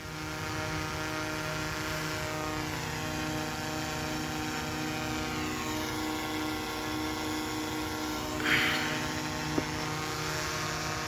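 A small drone hovers nearby with a steady, high-pitched propeller whine and buzzing harmonics, the pitch shifting slightly as it moves.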